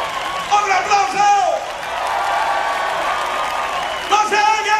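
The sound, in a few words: audience applause at concert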